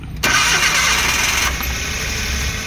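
A Suzuki DA64W with a K6A turbo engine in badly misfiring condition cranks and catches abruptly, then runs at a rough, loud idle close by, with no talking.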